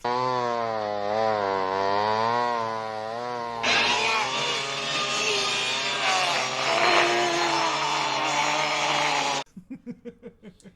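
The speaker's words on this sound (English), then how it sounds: "It's a frog with a chainsaw." A chainsaw roars in a movie scene from Hell Comes to Frogtown, a loud continuous revving whine that rises in pitch partway through, then cuts off into a few sputtering pulses.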